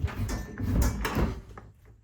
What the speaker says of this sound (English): does the door shut?